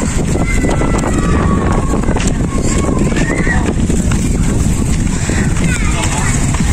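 Strong gusty wind from Super Typhoon Pepito roars steadily against the microphone, loud and continuous, with a voice talking faintly underneath.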